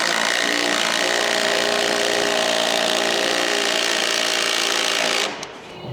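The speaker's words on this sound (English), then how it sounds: "let's see how this impact wrench goes." An impact wrench drives into a hole in wood framing, giving a loud, continuous close-up whir and grind that holds steady for about five seconds, then stops abruptly.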